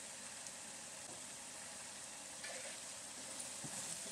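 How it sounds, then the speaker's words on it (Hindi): Masala with turmeric, coriander and red chili powder frying in a pan for chicken changezi gives off a faint, steady sizzle with no talking. "इसको अच्छे से भून लेंगे"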